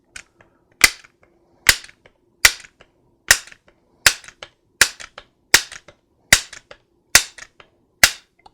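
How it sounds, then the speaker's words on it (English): Ten sharp, loud clacks of a Crosman 1377 air pistol being pumped up, evenly spaced about once every eight-tenths of a second, each a crisp snap with a short rattle after it, close and alone. "go ahead and pump up the gun"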